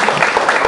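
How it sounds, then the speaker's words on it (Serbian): A short, dense burst of applause from an audience at a book launch event, steady and close with no pauses. "Aplauz za ovu kućinu"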